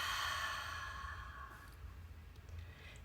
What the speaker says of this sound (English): let's take a big deep breath and ride that exhale